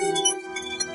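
Glasses clink together in a toast, a single bright chime that rings on briefly and then decays, close and clear with no talking.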